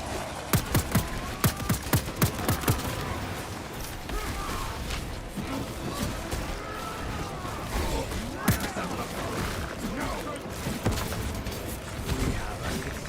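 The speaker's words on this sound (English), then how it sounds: "Those cannons are the Imperium's wrath made manifest." Cannons fire in the Space Marine 2 video game, a quick run of heavy booms at the start followed by scattered blasts over rumbling battle noise and mechanical creaks.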